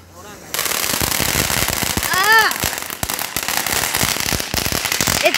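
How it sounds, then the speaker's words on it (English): Fireworks burst at night in a rapid, crackling barrage, loud and close, with dense popping and banging that keeps going after a quiet start, while voices call out over the noise. "Now I can see what the firework is."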